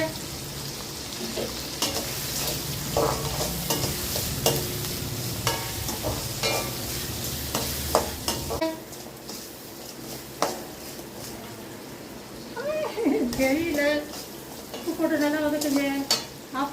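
Garlic and small shallots frying in a pan while being stirred, with a continuous close sizzle and repeated scraping of the spoon. A voice briefly talks over the frying near the end.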